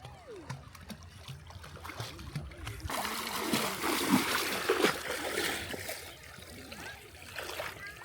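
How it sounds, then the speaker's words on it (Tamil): People bathing in the Thamirabarani river, with close, irregular water splashes and trickling, rising louder partway through, with voices talking underneath. "நாங்க தாமிரபரணி தண்ணியில குளிக்கிறோம்."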